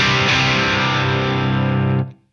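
A crunchy, overdriven single-coil electric guitar chord through an amp's crunch setting is struck loud and close, sustains for about two seconds, then cuts off.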